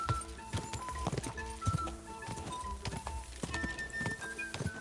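Horse hooves clip-clopping in a quick, steady rhythm across the ground in the medieval game Kingdom Come: Deliverance II, close and continuous with faint tack jingles and no voices.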